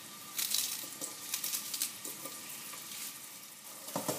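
Onions sizzle softly in a pan as they soften, a quiet, steady fry broken by small crackles and a few stirring scrapes, with no voices over it.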